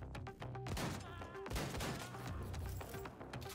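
A sustained volley of gunfire from shotguns and submachine guns in the video game Wolfenstein: The New Colossus, repeated shots and thuds layered over tonal game sounds, steady and moderately quiet throughout.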